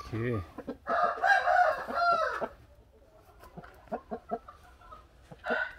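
Chickens and a rooster at close range, with a strained crow and bursts of busy clucking, then scattered short clucks and more squawking near the end.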